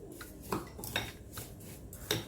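Apple crumble ingredients, including coconut oil, flaxseed and a pinch of salt, being stirred in a bowl, a few scraping clinks of utensil against the dish over a steady soft background.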